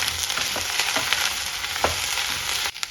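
Okra frying in a pan, a steady dense sizzle of hot oil filling the space nearby and loud, with faint scraping stirs, stopping abruptly just before the end.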